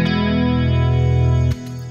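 A sustained electric guitar chord with a slightly distorted, fuzzy edge rings loudly, then changes abruptly near the end.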